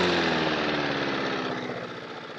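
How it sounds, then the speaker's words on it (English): An engine runs at slow idle speed, a close, steady puttering chug with an even rhythm that eases slightly in volume over a couple of seconds. "That sounds lovely, that engine."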